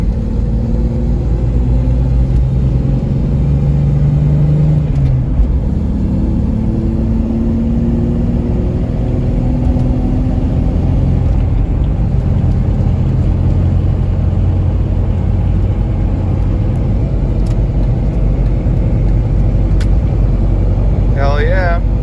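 Jeep XJ Cherokee engine accelerating through the gears from inside the cab, a steady loud rumble with rising and falling pitch as each gear winds up, and someone talking over it.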